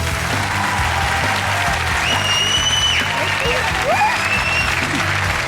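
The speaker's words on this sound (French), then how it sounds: "Je vous demande de l'accueillir comme il se doit sous un tonnerre d'applaudissements." Studio audience at a French television game show breaks into loud, sustained applause to welcome a contestant, a steady dense roar of clapping with faint tonal music and cheers running through it.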